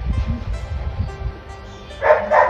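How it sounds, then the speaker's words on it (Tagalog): A dog yips and barks in two short, close bursts near the end, after a stretch of low rumbling background noise. "Aso po yan, hindi po siya aswang."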